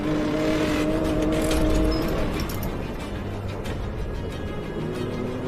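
A race car runs through an obstacle section of a circuit, its engine droning steadily near the microphone with shifting throttle and a strong low rumble, heard alone without talk.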